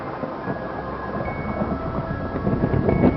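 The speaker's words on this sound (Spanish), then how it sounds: "una extraña lluvia aparece de la nada por la carretera." Steady rain falls along a deserted road at night with low thunder rumbling beneath it, a dense, continuous wash of sound that swells louder toward the end.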